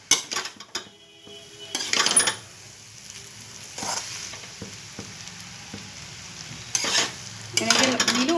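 Chowmein is stirred in a pan: utensil scrapes and clinks come in bursts over a low steady sizzle, with louder scraping strokes near the start and the end and quieter gaps between.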